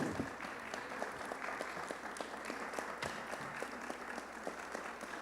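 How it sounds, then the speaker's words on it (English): An audience at the Venice architecture biennale applauds the new architecture writers, with a continuous, moderately loud patter of many hands clapping from beginning to end. "a big round of applause to the new architecture writers"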